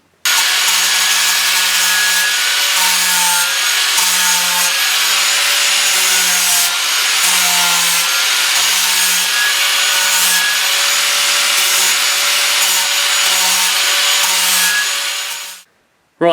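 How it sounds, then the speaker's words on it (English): An angle grinder fitted with a sanding disc grinds around a plastic BB-8 droid ball hub: a loud, continuous, harsh whirring rasp that runs steadily and evenly for about fifteen seconds before cutting off abruptly. "I'm going to use an angle grinder with a sanding disc in it"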